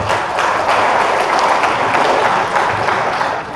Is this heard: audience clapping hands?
yes